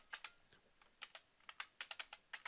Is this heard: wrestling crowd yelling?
no